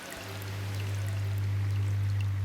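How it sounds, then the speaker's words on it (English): An aquarium filter picked up underwater by a hydrophone gives a steady, continuous low hum under a soft wash of bubbling, pouring water that stays even throughout. "That's the sound of the filter working."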